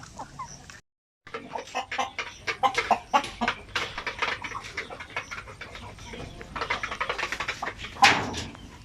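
Basilan native chickens clucking in a farm range area: busy, continuous clucks and calls from several birds nearby, with a louder squawk near the end.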